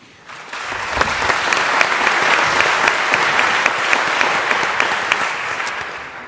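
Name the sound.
audience applause for a panelist introduction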